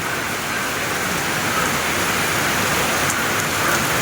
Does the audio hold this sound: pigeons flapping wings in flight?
no